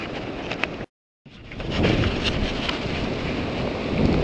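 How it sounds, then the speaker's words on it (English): Gusty wind buffets the microphone outdoors in snow while cross-country skiing, a low rumbling roar, briefly cutting out before returning stronger and steady. "It's getting a little windy."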